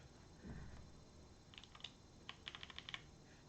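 Typing on a Rama Works M60 mechanical keyboard: after a hushed start, a quick run of crisp keystrokes clatters close by over a faint hiss.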